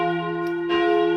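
Church bell ringing in Davos, Switzerland, a steady sustained bell tone with rich ringing overtones and a second stroke swelling in partway through, fairly loud and alone.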